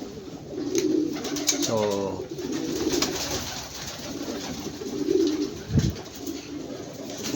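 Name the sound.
pigeons cooing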